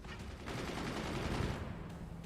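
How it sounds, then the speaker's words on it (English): Mortars fire in the strategy video game Forts, a dense rumbling volley of muffled blasts blending into a continuous roar for about two seconds, fairly quiet and with no talking. "Only 2 of those mortars fired."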